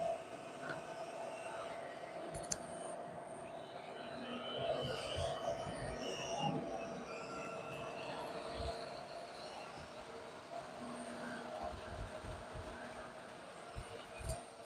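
Lionel and MTH model toy trains running on track, including a Lionel 614 Alaska NW2 switcher and an MTH Railchief George W. Bush locomotive, giving a continuous rolling rumble and clatter with faint squeals throughout.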